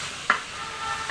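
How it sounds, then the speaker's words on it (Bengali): Cucumber and vegetables frying in a pan, stirred with a utensil: a steady close sizzle with one sharp scrape near the start and another at the end. "এখন ভালোভাবে নেড়ে দিব।"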